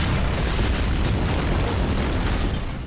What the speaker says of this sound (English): Big explosions seem to be a general theme in the Ballad of Gay Tony.